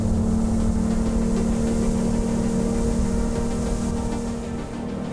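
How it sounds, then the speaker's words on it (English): A Sea-Doo boat's V6 stern drive engine runs at wide open throttle, a steady droning roar mixed with wind and water rush, dipping slightly near the end. "V6s aren't supposed to sound as good as a V8, but listen to that engine. Wide open, it sounds fantastic."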